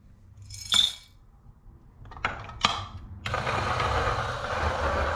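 A coffee grinder grinds an 18 gram dose at grind size 10. A few short mechanical clicks and clatters come first, then a loud, steady whirring grind starts partway through and continues to the end.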